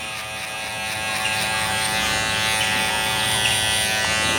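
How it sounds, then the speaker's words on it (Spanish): An electric hair trimmer buzzes steadily and loudly up close while cutting hair for a fade haircut, its motor hum constant throughout without pauses. "como no puedo usar la afeitadora, vamos a usar la patillera."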